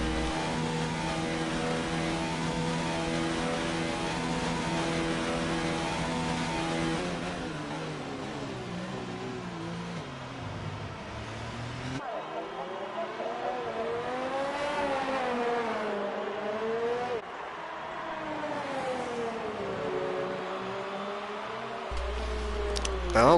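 A Formula 1 car engine screams through a hot lap in the F1 2019 racing game, the pitch rising and dropping through gear shifts and braking, loud and continuous with no talk.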